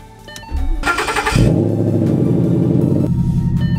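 A Ford Mustang engine cranks briefly, then catches and roars up before settling into a steady, deep idle rumble close by.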